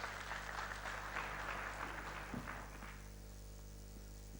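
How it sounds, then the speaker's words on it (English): Applause rises from a summit audience welcoming a speaker, broad and steady for over two seconds before fading into the hum of a quiet hall. "Let's welcome him with a clap, please."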